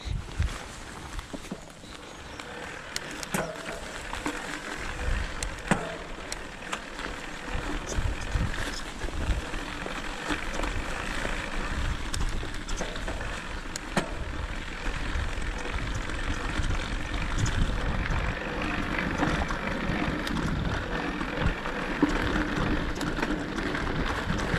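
A Rocky Mountain Altitude Powerplay electric mountain bike is ridden off-road at its highest pedal-assist level, producing a continuous rushing rumble of wind and tyres over rough ground with scattered crunches and knocks, close and steady, with no talking.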